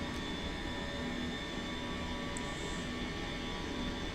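Airliner jet engines in Microsoft Flight Simulator 2024 produce a steady, even roar with faint tonal whine during the climb after takeoff, unbroken and alone.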